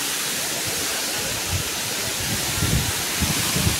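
A waterfall and stream rush steadily as broadband water noise, with low splashing surges near the end and no speech.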